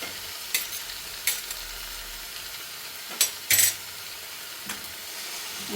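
Mashed potato is mixed with crushed cooked beef for cutlets, giving a handful of short, soft scraping and squelching strokes spread across a quiet kitchen background, with two closer, louder bursts near the middle.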